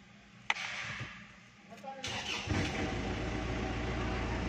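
Vehicle engine cranked with the ignition on, the oil indicator light staying lit: a sharp click, then a short starter whir that catches into a steady, rumbling idle, fairly close.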